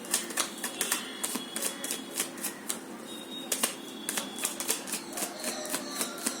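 Tarot cards from a Rebel deck are shuffled and drawn, giving a rapid run of crisp, close card snaps and flutters in a steady rhythm, quiet and with no talk.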